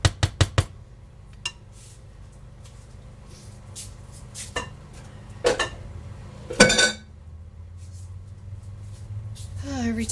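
Dishes, pots and pans clatter in a home kitchen during cooking, with a quick run of sharp clinks at the start and scattered knocks after, while a person talks over the steady background.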